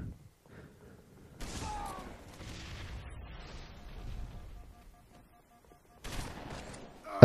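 Bursts of gunfire and heavy booms from a Halo 3 match on the Pit map come in two loud clusters separated by a quieter stretch, with game effects filling the gaps.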